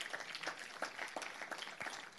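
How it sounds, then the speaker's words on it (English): Scattered hand claps from an audience at a hate crimes community meeting, faint and somewhat distant, a light patter of uneven claps with no voices over them. "let's give the ADL a round of applause"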